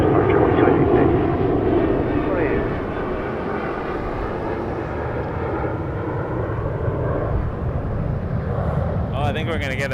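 A Boeing 737 airliner at Toronto Pearson Airport roars past at a distance, a broad jet rumble that slowly fades while a voice talks over it, with a brief crackle at the end.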